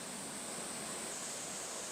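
A waterfall at Wallyongdae in the Songgye valley roars steadily into its pool, a dense, even rush of falling water and spray that stays moderately faint and continuous throughout, with no voices.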